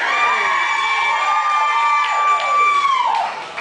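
Rowdy crowd at a Control Wrestling event cheering loudly and steadily, with shrill whoops and shouts rising over a dense roar that fills the whole moment before easing slightly at the end.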